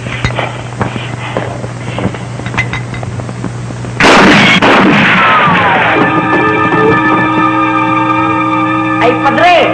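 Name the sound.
gunfire in a movie scene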